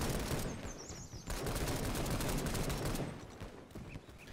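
Machine guns fire in a WW1 video game, the bursts rapid and dense, with rattling volleys that pause briefly before continuing loud and close.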